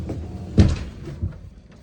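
A metal mounting pin is pulled on a TV mount in a 2010 Heartland North Trail 31BDSS travel trailer and the set swung around. It makes one sharp close clunk, then a softer knock, with no voices.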